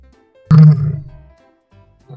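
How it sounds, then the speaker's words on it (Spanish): One powerful lion roar breaks out abruptly, loud and close, then rolls down into a gravelly, fading rumble. A faint low grunt follows near the end. "Este es el sonido que hace un león."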